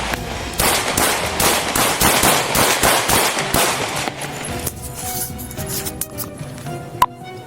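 Gunshots ring out during a police confrontation. A rapid volley of loud, sharp cracks comes in quick succession, then stops, leaving scattered clicks and one final sharp snap.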